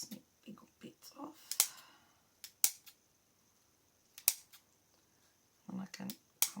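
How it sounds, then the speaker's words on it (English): Scissors snipping off big pieces of paper for a scrapbooking project, several sharp separate cuts at close range in bursts with pauses between them, with faint handling rustle. "I'll snip big bits off."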